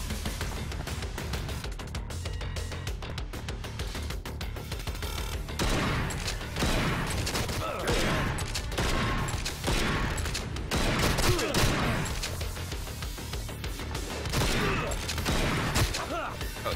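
Shotgun blasts in the roguelike video game Bunker Punks, repeated heavy bursts of game gunfire with mechanical clatter, loud and continuous over a busy game soundtrack, with a voice faintly present.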